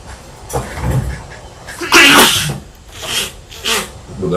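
A person sneezes sharply a few times in a row, each burst loud and close with a short breathy intake between, no talking alongside.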